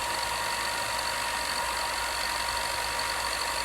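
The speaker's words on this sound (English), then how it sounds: "now I can go down on the sander here and just grind that away a little bit" A sander grinding the edge of folded costume fabric, giving a steady, close, bright whirring hiss with a faint mechanical hum underneath, unbroken for a few seconds with no voices.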